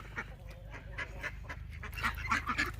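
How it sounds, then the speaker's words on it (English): Farm ducks eating soggy yams in a winter garden, giving repeated quacks and honking calls that grow louder and busier toward the end, over a steady low background rumble. "you can watch our ducks eat some soggy yams"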